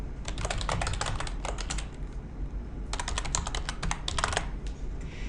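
Someone typing a date into a computer keyboard, two digits for month and day, four for the year with slashes: two quick bursts of rapid, close key clicks separated by a short pause, with no talking.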